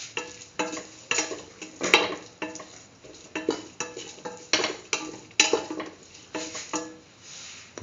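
Tomato rice being mixed with cumin powder in a pan, heard as a rhythmic series of close utensil scrapes and knocks against the metal, roughly one stroke every half second, over a light sizzle and with nobody talking.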